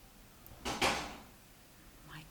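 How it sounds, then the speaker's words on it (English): A metal door knocker rattles as wind hits it, two faint close clacks around the middle of a quiet indoor stretch with no talk. "that's my door knocker that you can hear"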